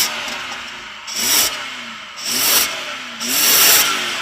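Three revs of a BMW 7 Series 3.6 litre V8 petrol engine, each a rising blip that falls back to a lower idle between them, evenly spaced and fairly close.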